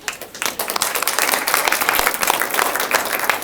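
A youth event audience gives the sponsors a loud round of applause, many hands clapping in a dense, lively burst that swells quickly and holds steady, close and full.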